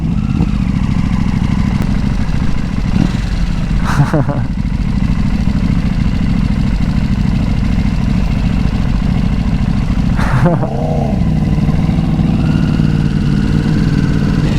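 A Yamaha R1 motorcycle exhaust drones loud and steady while riding, with wind rush and voices talking over it throughout.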